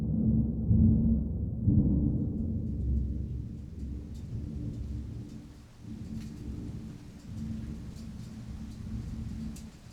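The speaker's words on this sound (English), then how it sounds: "The downpour started a few hours ago." Heavy downpour with rolling thunder: deep, loud rumbles swell and fade over several seconds, backed by a constant hiss of rain that lingers after each roll.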